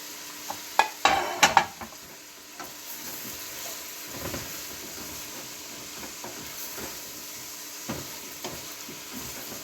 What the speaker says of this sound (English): I'm going to add my broccoli.